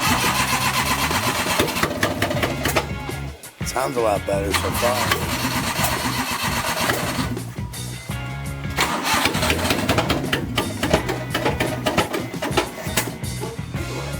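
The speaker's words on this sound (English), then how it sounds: "That's more of the idle I like to run." A Suzuki Carry's small engine cranks, catches and settles into a rough, loud idle close by, with a brief stumble partway through and someone speaking over it.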